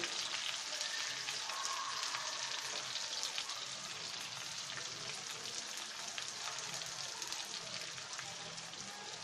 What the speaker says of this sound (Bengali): মশলাগুলোকে একসাথে আমাদের এই পেঁয়াজ ভাজাতে দিয়ে দিব